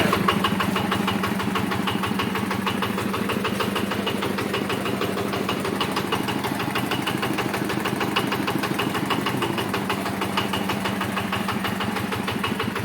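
A heavy diesel engine idles steadily and loudly like a large tractor, its low rhythmic chugging continuous throughout with no talking.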